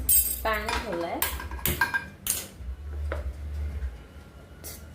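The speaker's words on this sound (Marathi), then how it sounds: "सो या ठिकाणी मी पॅन ठेवला आहे" A metal pan being set down on a kitchen stove while cooking mushroom masala, giving a few sharp clanks and clinks close by with soft background noise between them.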